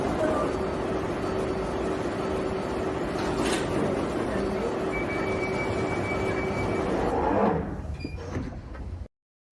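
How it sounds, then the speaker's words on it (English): Underground train standing at a station platform, a steady loud rumble of motor and ventilation with a tonal hum, a brief high hiss partway through, then a sharp drop near the end as the doors or motor cut. "Mind the gap between the train and the platform."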